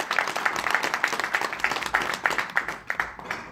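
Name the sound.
audience applause for Simon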